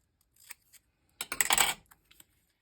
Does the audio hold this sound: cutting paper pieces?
yes